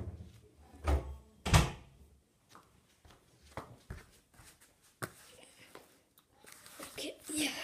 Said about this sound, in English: Let me just go and close the door.